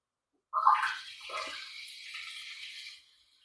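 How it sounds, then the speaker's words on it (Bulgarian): A stream of urine pouring directly into water below, a splashing trickle that starts abruptly, runs steadily for a couple of seconds at moderate closeness, then tapers off. "Сега пикай директно във водата долу."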